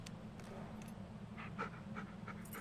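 A dog pants in quick, soft, rhythmic breaths in the Blair Witch video game, faint and close, with a few light whimpering sounds and no talking.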